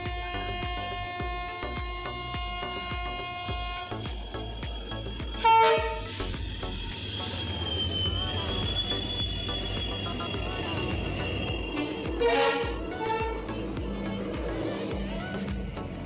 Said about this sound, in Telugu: మేము ఎక్కవలసిన ట్రైన్ అయితే వచ్చేసింది